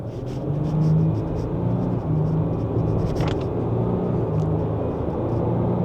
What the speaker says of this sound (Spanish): aquí vamos a intentar acelerar un poco a fondo